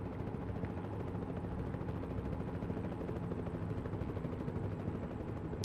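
Steady rotor drone of a helicopter in the American Truck Simulator video game, a dense continuous rumble with no breaks, heard alone without talk.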